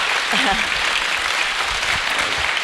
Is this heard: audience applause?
yes